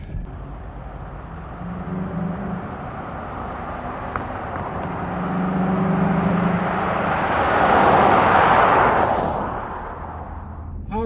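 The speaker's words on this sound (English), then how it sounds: "He got that throttle going." A 2014-2020 GMC Sierra/Silverado truck engine fitted with an S&B cold air intake revs up, its deep rumble swelling and peaking before easing off, loud and close with steady broadband roar.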